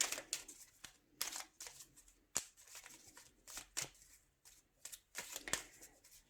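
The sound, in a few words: cutting and shuffling a deck of oracle cards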